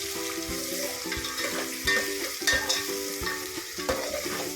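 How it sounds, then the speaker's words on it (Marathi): Onion and green chillies sautéed and stirred in a pan for paneer matar pulao, with a steady sizzle under repeated scraping stirs of a spoon against the pan, close and fairly loud, no talking. "कांदा लाल होईपर्यंत परतायचं आहे"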